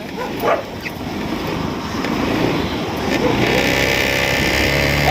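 A dog arriving with two dogs on a motorcycle sidecar cart outside a house gives a short bark near the start. Steady motor rumble and wind noise fill the rest.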